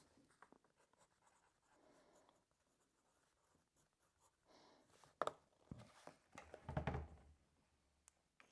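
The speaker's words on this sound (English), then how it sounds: "let me finish writing this." A pen scratches across paper in a quiet room, with faint, intermittent strokes and a few louder scrapes near the end, close to the microphone.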